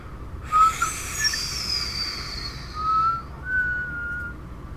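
A voice imitates a falling nuclear bomb with a descending whistle that slides steadily down in pitch over a few seconds, followed by short fainter whistled tones.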